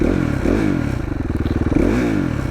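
A 2016 KTM 450 XCF dirt bike engine revs up and down close by, loud throttle blips rising and falling with a rattling, clattering idle between them and no voices.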